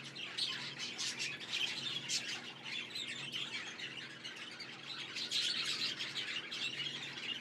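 Budgerigars chirp and chatter continuously in a breeding aviary, a dense, busy layer of many small bird calls at moderate distance with no talking.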